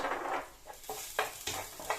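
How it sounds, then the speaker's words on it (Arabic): Garlic frying in hot oil in a pan, a steady sizzle broken by several scraping stirs of a utensil, close and moderately loud with no talking. "وهلا بنفس الطواي والزيت بننزل الثوم"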